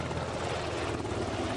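An SH-60BR Seahawk helicopter flies with a steady, dense rotor and engine roar, loud and continuous throughout, with no voices.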